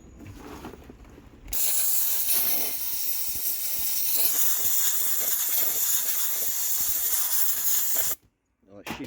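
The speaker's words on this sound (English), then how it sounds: "some compressed air." Compressed air blasts rust out of a metal frame on a Coleman CC100, a loud continuous hiss that runs steadily for several seconds and then cuts off abruptly.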